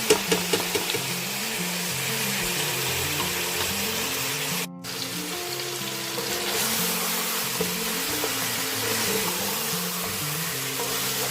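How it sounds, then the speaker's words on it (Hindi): Mutton and okra frying in a pan with tomatoes and spices, a steady sizzle going on throughout, with a few knocks at the start and a brief cut about halfway through. "पाँच 6 मिनट इसकी भुनाई करेंगे"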